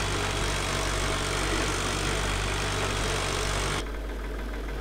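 A tractor engine idles steadily in Farming Simulator 2013, a loud continuous rumbling drone that drops to a quieter, thinner hum shortly before the end, with no voices.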